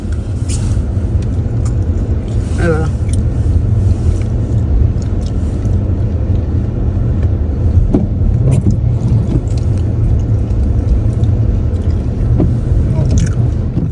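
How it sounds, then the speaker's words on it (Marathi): A car drives on winter tyres along snowy European roads, giving a steady, close low rumble of road and tyre noise that fills the interior, with a few faint clicks and thumps over it and no talking. "तुम्हाला दाखवण्यासाठी मी गाडीमध्ये असा राऊंड मारते"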